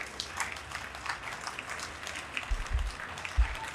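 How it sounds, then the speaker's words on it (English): Faint audience applause for Chris Mitchell after a solidarity discussion, soft and fairly distant, continuing steadily for a few seconds with a couple of low thumps near the end. "give him a loud applause for enough is enough everywhere"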